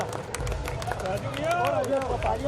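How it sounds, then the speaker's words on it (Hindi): Applause from the crowd at a Saraswat Brahmin community Rang Panchami gathering, steady clapping and crowd noise running throughout beneath someone speaking over a loudspeaker. "एक बार तालियां हमारे अभिषेक भैया के लिए"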